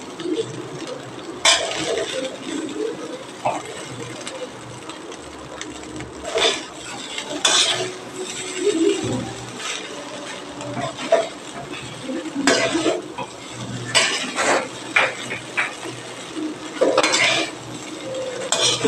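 Metal spoon scraping and tossing chicken fried rice in a pan, with repeated clattering scrapes at an uneven pace over a faint background sizzle, close and fairly loud.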